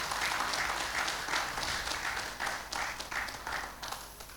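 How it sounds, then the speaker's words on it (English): A round of applause from the audience at an MSME finance awards event: sustained crowd clapping, moderately distant, gradually tapering toward the end with no talk over it. "they are worthy of a round of applause"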